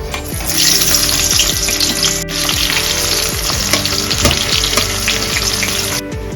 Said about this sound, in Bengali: এখন এই গরম তেলের মধ্যে কুচো করে রাখা পেঁয়াজগুলো দিয়ে দেবো